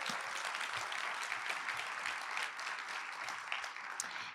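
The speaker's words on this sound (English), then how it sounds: "Let's give those two special sponsors a round of applause." A crowd at a scholarship awards celebration applauds its sponsors, with dense, steady clapping that fills the room without a break.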